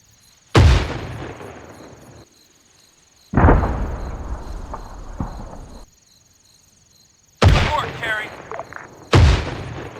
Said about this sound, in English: We get a little taste of calling in mortar strikes